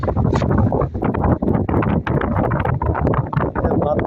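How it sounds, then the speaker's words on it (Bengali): Cold wind blows over the Shitalakshya river, buffeting the microphone in loud, uneven gusts and rumbling roars that carry on throughout. "ঠান্ডা একদম শীতল বাতাস"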